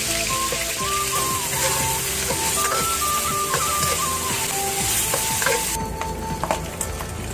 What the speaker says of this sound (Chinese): 锅烧热，放猪油， 肉馅把它炒出油